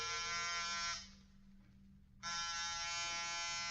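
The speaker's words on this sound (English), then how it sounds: "Get off the buzzer." In an old-time radio drama, a door buzzer sounds loud and steady, cuts out for about a second, then resumes its harsh electric drone, with no voices over it.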